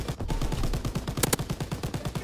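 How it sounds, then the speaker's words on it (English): Rapid machine gun fire in Call of Duty WWII, a steady stream of evenly spaced bursts close up, with a sharper, louder crack midway and no talking. "I got the machine gun. I'll take care of the snipers."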